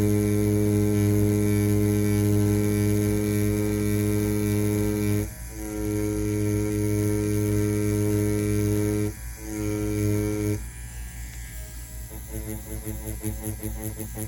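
A Solong EM-139 tattoo machine runs with a steady, loud electric buzz and hum, briefly dropping out twice before resuming, then continuing with a slightly rougher, fluttering tone near the end.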